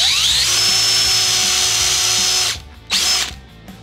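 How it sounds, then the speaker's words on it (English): A power drill with a self-centering bit drills hinge holes, whining loudly at high speed for a couple of seconds, stopping, then giving one short final burst, close up. "To drill these holes, I'm gonna use this, this is like a self-centering drill bit."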